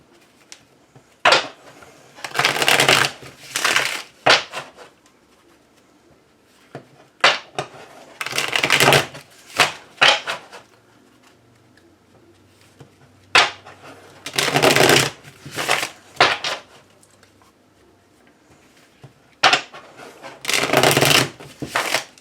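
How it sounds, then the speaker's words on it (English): A tarot card deck being shuffled by hand, giving repeated bursts of crisp riffling and flapping card noise in several separate bouts with short pauses between, close and clear with no talking. "I love shuffling cards."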